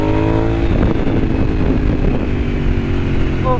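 Suzuki SV650 motorcycle engine running steadily close by, a loud, continuous rumbling drone with a rising rev near the end.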